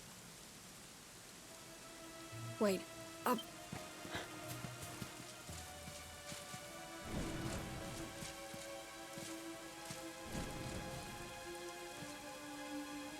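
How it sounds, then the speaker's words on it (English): Steady soft rain falls in a Dragon Quest XI game scene, with scattered drops and a low distant rumble behind faint chiming musical tones. "it was raining like this the last time I ever saw her"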